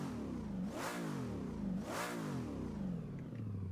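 Holden A9X Torana touring car engine in the racing game Assetto Corsa, revving hard twice in quick swelling blips over a steady growling idle, loud and close with no voices.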